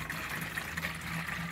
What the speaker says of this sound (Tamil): இப்போ கால் லிட்டர் ஊற்றிருக்குறேங்க,